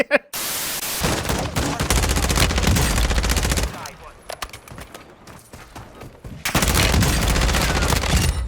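Rapid automatic gunfire in the Warzone video game, loud dense bursts lasting a few seconds each, separated by a quieter stretch of scattered single shots and noise, with a voice talking at times.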